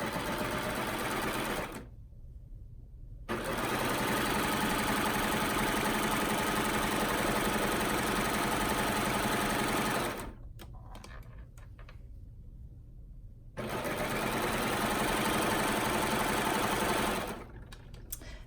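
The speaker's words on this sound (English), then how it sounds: "I'm gonna use my my serger with the blade disengaged so that it doesn't cut any of this." A serger with its blade disengaged sews elastic into swimsuit scoop bottoms, its loud steady motor whirring in long continuous bursts with brief pauses between seams.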